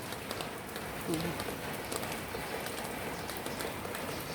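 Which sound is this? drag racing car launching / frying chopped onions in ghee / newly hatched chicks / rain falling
rain falling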